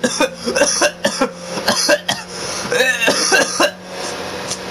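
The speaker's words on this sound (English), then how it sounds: "I had a bit of a cough." A man coughs repeatedly in a close, loud series of harsh bursts with a little throat clearing, the fits coming in an uneven rhythm over several seconds.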